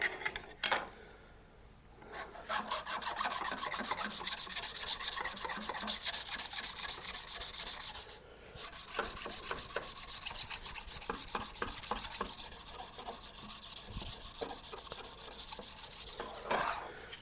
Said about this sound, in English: This just knocks off any of the old edge, and make sure that your scraper is good and flat on both faces.